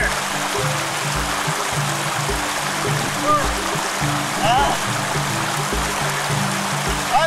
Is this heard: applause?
no